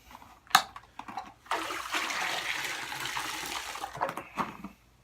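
Water pours and splashes into a bucket set up for wet tumbling, filled with recycled rainwater; a sharp splash comes first, then a steady loud gush that runs for a few seconds and ends in a few splattering drips.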